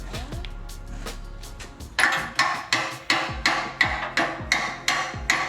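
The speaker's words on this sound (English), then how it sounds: "Hammer it in." Sharp metallic hammer blows drive a bolt into a Jeep Wrangler crossmember at a steady rhythm, each ringing briefly, following a few quieter taps at the start.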